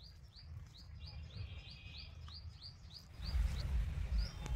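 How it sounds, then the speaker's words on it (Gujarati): Small birds chirp under a spreading mango tree on a village farm, giving a quick, evenly repeated series of faint high calls over low background rumble that grows louder toward the end. "અને પક્ષીઓનો કલરવ સાંભળો તમે."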